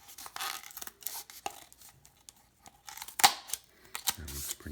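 Cardboard is cut slowly by hand for a homemade cardboard speaker, giving sparse, uneven scraping and snipping bursts with quiet gaps between them, close and fairly soft.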